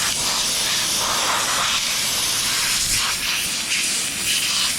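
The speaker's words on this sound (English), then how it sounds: "You can see this little steam," Steam hisses steadily and loudly, close up, while bugs are cleaned off a coated truck. The spray continues without a break for several seconds.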